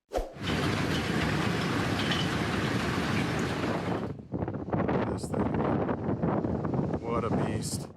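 Loud, roaring storm wind strong enough to topple trees and power line poles buffets the microphone continuously, briefly dropping off before gusting back in with rumbling, blustery noise.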